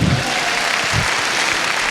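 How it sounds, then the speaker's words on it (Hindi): Audience applause after a call to clap for God at a motivational stage speech, a steady, dense wash of clapping filling the whole moment at moderate loudness with no voice on top. "तो एक बार ईश्वर के लिए दमदार तालियां होना चाहिए"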